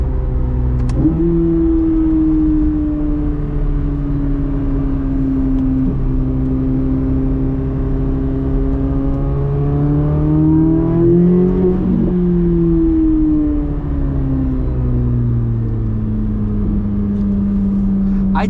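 A 2023 Chevrolet Corvette Z06 3LZ engine is driven hard, with a loud, steady howl that rises in pitch as it revs, dips briefly near the middle, then climbs again through the gears, continuous throughout.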